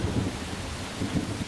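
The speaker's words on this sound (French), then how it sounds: "donne lieu à des précipitations diluviennes. C'est alors un déluge" Heavy torrential rain pours down in an Australian downpour, a steady dense roar with low rumbling swells, no voices.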